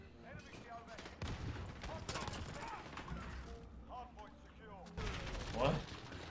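Rapid bursts of gunfire from a PC shooter video game crackle through the whole stretch, with a louder burst near the end, while excited voices talk and shout over the shots.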